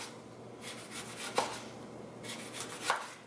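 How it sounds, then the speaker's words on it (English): A knife cuts a lemon into slices on a board, giving two quiet, close rubbing strokes, each ending in a soft tap about a second and a half apart, against faint room noise. "I'm just going to slice this lemon, most of it in slices."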